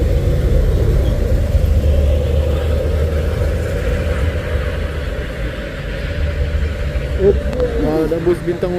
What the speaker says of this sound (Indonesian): Ada bus Bintang Utara.